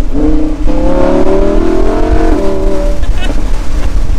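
A Lamborghini Huracan EVO engine, warmed up in Corsa mode, revs and drones loudly up close, pitch rising and falling in a sustained growl with no talking.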